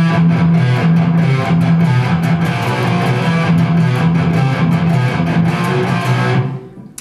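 Palm-muted distorted electric guitar chugs in a tight, even rhythm, loud and up close, before cutting off at the end. No voices.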